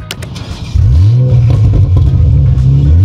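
A Toyota GR fitted with an aftermarket Akrapovic exhaust is revved hard from idle: a sharp throttle blip rises into a loud, sustained, deep engine roar held close to the microphone.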